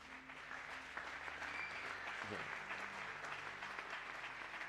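A church congregation at a Pentecost service applauds and cheers in a sustained, dense wash of clapping, fairly faint and distant, with voices mixed in.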